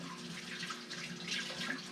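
Water running from a kitchen tap into a sink for rinsing a pan after cooking fish, a soft steady splashing hiss with no talk, heard close but fairly quiet.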